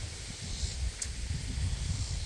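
Wind buffets a microphone outdoors on a farm, a low rumbling roar with uneven gusts across the whole short stretch, with no voices.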